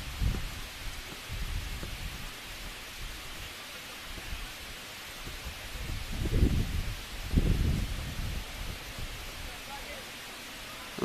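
Strong wind blows across an outdoor soccer field in Yuma, Arizona, as a steady broad rush with heavier gusts buffeting the microphone, under a faint commentator's voice.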